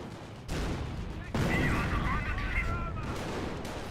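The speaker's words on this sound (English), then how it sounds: "Bofors plinking away against the Stu." Bofors anti-aircraft gun firing against a StuG assault gun in a Company of Heroes match, steady distant thumping shots within a dense battle din of rumbling gunfire, with no talk.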